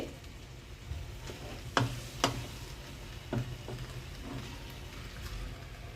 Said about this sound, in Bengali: তেল, নুন আর নানা রকম মশলার সঙ্গে সবজিগুলো ভালোভাবে নাড়াচাড়া করার জন্য অনেকটা নরম হয়ে গেছে